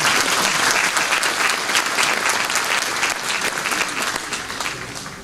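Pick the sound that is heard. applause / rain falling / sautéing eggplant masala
applause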